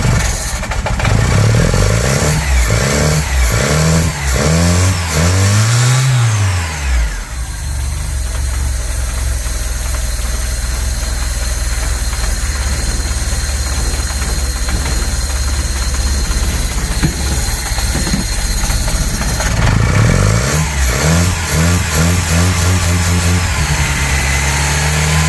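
A VW Polo 86c carburetor engine, cold and with an air leak, runs close and loud with rough, lumpy revving at first, then settles into a long uneven idle before being blipped again near the end.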